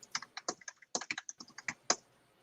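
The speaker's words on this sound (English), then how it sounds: "which I'm typing into my wonderful text document here" Someone types into a text document on a computer keyboard, a quick irregular run of crisp key clicks close up, with no talking.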